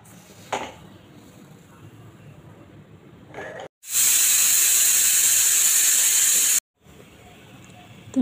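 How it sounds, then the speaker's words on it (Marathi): A pressure cooker cooking moth beans on a stove lets off one loud, continuous blast of hissing steam lasting nearly three seconds, set between quieter stretches of faint kitchen background noise. "3 शिट्ट्या झाल्यात कुकरच्या."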